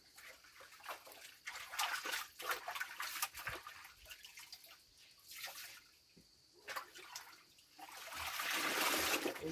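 Water sloshes, splashes and trickles in irregular bursts as clothes are washed by hand in a basin of collected rainwater, close by, with a longer swishing stretch at the end.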